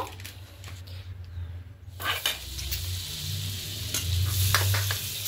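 Burger buns toasting in butter in a pan for chicken burgers, a steady soft sizzle close by with a few light scrapes and shuffles of the buns being placed.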